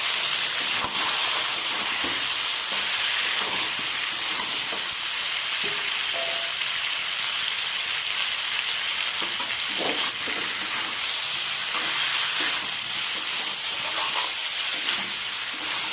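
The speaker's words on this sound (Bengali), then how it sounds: "এবারে আমি ভেজে রাখা আলু আর ফুলকপিটা দিয়ে দেবো।" Fried potatoes and cauliflower sizzle over a low gas flame in a pan of cooked-down spices, a steady, bright hiss with occasional stirring scrapes and clinks throughout, no voices.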